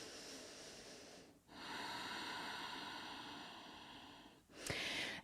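Steady breathing held through a power yoga pose, with long, airy inhales and exhales close to the microphone and a short sharp breath near the end.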